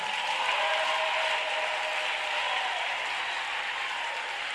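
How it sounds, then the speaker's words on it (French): Church congregation applauding and cheering for the Lord during a worship service, a dense, steady wash of clapping and crowd noise sustained evenly throughout. "Acclamons très fort pour ce Seigneur"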